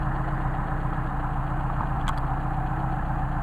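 A Mercedes 190SL engine on Solex carburetors idles steadily, a close, even mechanical drone with a constant pulsing rumble and a faint brief metallic tick partway through, no voices.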